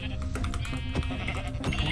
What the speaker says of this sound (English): Got a sheep there.